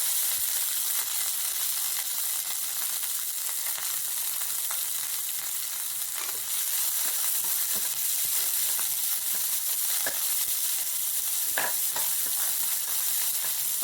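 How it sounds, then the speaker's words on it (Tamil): Onion sautéing in a pan for masala dosa filling, a continuous bright sizzle with occasional soft crackles and stirring taps, close and steady throughout, no talking. "ஆனியன் வதங்குறதுக்காக"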